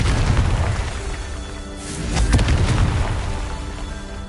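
A Confringo spell explosion in Hogwarts Legacy booms out loud and low, swelling into a rumbling burst with a crackling flare midway before fading into a sustained roar.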